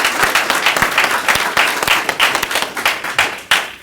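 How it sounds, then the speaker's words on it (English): A round of clapping from a crowd at a hospital groundbreaking ceremony, close and loud, with distinct individual claps in an uneven rhythm over several seconds. "So a round of applause"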